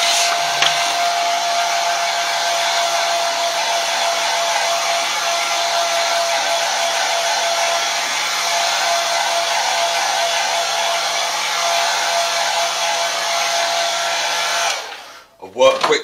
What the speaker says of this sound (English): Quick word on the hair drying.